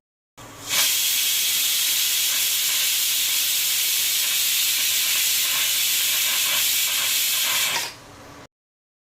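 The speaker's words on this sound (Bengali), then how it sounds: "দুইটা সিটি লাগিয়ে প্রেশার কুকারের বাষ্পটা বের করে নিয়েছি" A steady, loud hiss of steam rushes out of a pressure cooker of khichuri for several seconds, starting abruptly and cutting off just as suddenly.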